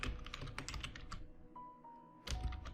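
Close, quick keystrokes clatter on a computer keyboard in a short burst, pause briefly under a faint tone, then resume with a final flurry of taps.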